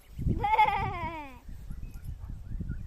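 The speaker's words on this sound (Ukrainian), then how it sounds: "А як коза каже?" A goat gives one drawn-out, wavering bleat up close, followed by quiet rustling and faint background noise.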